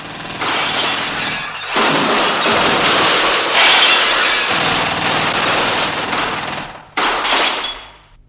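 A barracks shootout in a Spanish Civil War documentary effect erupts as loud, dense bursts of gunfire with crackling, shattering impacts, broken by brief gaps, before the final burst trails off.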